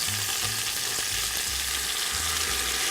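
A pork roast sears in a hot pan with a loud, steady sizzle, crackling close by and never letting up, while low scraping stirs thump underneath. No one talks.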